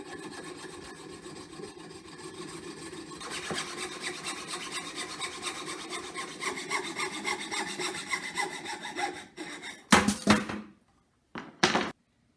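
Hand saw cutting through a wooden club handle at 16 inches: steady, close back-and-forth rasping strokes building in intensity, ending as the piece breaks off with a couple of knocks and clatters.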